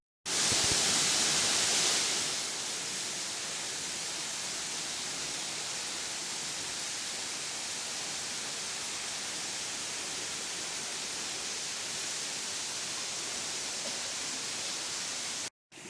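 A waterfall in the Prosecco Road countryside of Italy pours in a steady, dense rushing roar that holds unbroken throughout, loud and close, with no voices.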